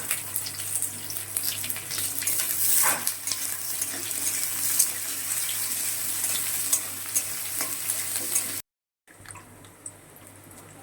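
Chopped onion dropped into hot oil with potatoes already frying, a steady loud sizzle with stirring scrapes throughout, a brief silent break near the end before the sizzling resumes.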